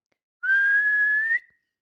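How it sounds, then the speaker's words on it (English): A referee's whistle at a football match, one steady, loud, sustained blast of about a second with no voices around it. "and he blew his whistle."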